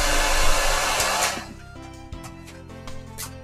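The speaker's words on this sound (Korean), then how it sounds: "드라이기를 키네" Hair dryer switched on in the MapleStory video game, starting with a loud, bright blowing whoosh that fades after about a second into game music and light chimes.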